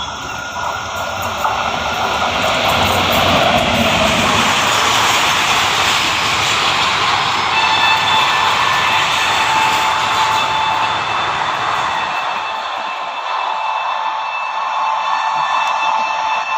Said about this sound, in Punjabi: ਉਹ ਆ ਗਈ ਟ੍ਰੇਨ ਸਾਹਮਣੇ